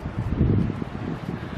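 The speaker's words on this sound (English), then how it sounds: "And it's super windy." Strong wind buffets the microphone in a low, continuous roar with gusting surges.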